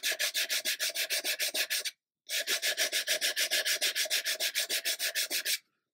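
A part of a 1/64 scale HMS Fly ship model being sanded with sandpaper: quick, even back-and-forth rasping strokes, close and loud, with a brief pause before the strokes resume.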